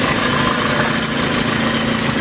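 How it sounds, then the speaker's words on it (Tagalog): An engine idles steadily and loudly up close, a continuous dense rumble with faint knocking texture and no talking. "Ito yung motor ko."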